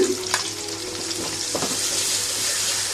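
Green chili with ginger and onion paste fries in a pan for a tomato Bombay duck bhuna, a steady close sizzle with occasional stirring clatter throughout.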